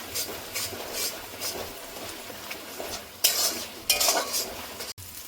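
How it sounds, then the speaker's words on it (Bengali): Spice paste with cumin powder frying in a pan while being stirred, a soft sizzle beneath repeated scraping and clinking of a spoon against the pot, with a couple of louder stirring bursts near the end. "এবার মশলাটা একটু ভেজে নেব।"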